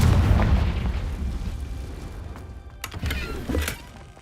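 A Confringo fire spell blasts in a Harry Potter video game, giving a deep rumbling burst that fades, then two sharper crackling pops near the end, with no voices.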